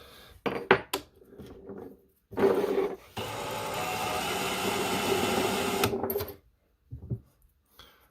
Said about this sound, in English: I'm just going to grip it and twist it, and it locks it into place.